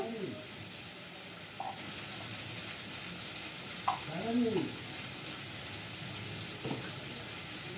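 Spices sauté with Kashmiri chilli powder in a pan, giving a low continuous sizzle with a few brief vocal-like tones rising above it.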